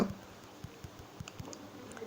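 Fingers tap on a phone's Google Keyboard, making faint, soft, irregular clicks over a quiet hiss.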